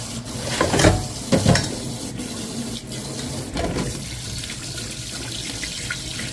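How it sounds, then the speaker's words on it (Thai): Salted eggs are rinsed under running tap water to wash off clinging rice husk, with close, steady splashing and a few louder bursts as the eggs are handled in the sink. "ตอนนี้ก็มาล้างเอา ตัวแกลบที่ติดกับไข่นะคะ"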